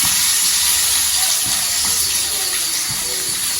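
Onions frying in a pan while masala puri is being cooked, giving a steady loud hiss and sizzle throughout, close up, with no voices.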